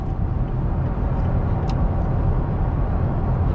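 A 2016 Toyota Tacoma TRD Sport 4x4 cruises at highway speed, heard from inside as a steady low engine and road rumble with wind and tire noise, no talking.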